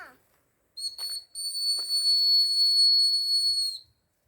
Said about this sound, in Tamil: இது விசில் அடிச்சிட்டு இருக்குது